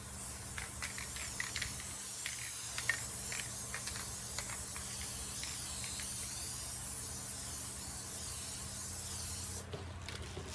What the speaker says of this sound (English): now I'm going to use a little bit of spray adhesive. I'll spray on these lines here.